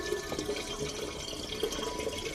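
Tap water, reverse-osmosis purified, runs steadily into a container being filled for home-brewed kombucha, a continuous close splashing trickle with no talk over it.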